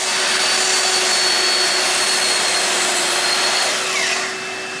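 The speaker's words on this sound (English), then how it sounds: "I set up the miter saw stand saw stops on the rigid MSUV for each dimension and start cutting" A miter saw on a stand cuts lumber to length with a loud, steady high-pitched whine and rasp lasting several seconds, then tapers off slightly at the end as the blade winds down; no talking.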